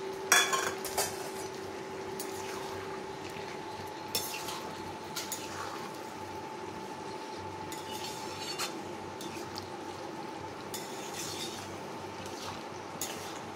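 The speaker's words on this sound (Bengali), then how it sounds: "গ্যাসের ফ্লেম মিডিয়ামে রেখে বেশ কিছুক্ষণ নাড়াতে থাকবো" Ash gourd and fried lentil dumplings are stirred in a pan over a medium gas flame, metal spoon clinks and scrapes recurring against a steady low hum and faint sizzle.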